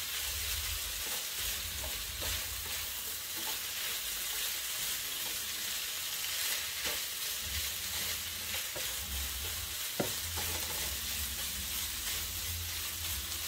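Rice fries in a pan for a burrito while being stirred, a loud continuous sizzle broken by scraping stirs and one sharp knock, close and without talk.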